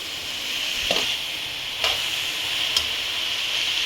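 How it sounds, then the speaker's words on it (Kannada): Crumbled idli tossed with onions in a hot frying pan, a steady sizzle and frying hiss with a few soft scraping stir strokes spaced about a second apart, close and moderately loud, with no talking. "ಈಗ ಪುಡಿ ಮಾಡಿಟ್ಕೊಂಡಿರೋ ಇಡ್ಲಿನೆಲ್ಲನೂ ಬಾಣಲಿಗೆ ಹಾಕಿ ಆ ಈರುಳ್ಳಿ ಜೊತೆ ಎಲ್ಲ ಮಿಕ್ಸ್ ಮಾಡಬೇಕು."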